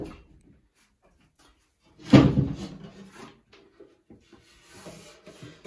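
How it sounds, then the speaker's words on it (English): A drawer of an IKEA Hemnes bathroom vanity slides in with one firm wooden rub and knock near the middle, followed by faint shuffling handling noises close by, with no talking. "I'm just going to put the bottom drawer in just to see how that lines up"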